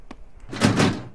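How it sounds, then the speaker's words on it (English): A stuck door is shoved, giving a short creak followed by a loud close thump and scraping rattle. "This door's stuck."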